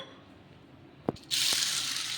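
Sago pearls being washed in water in a kitchen: a quiet stretch, a couple of sharp clinks, then a loud steady rush of running tap water.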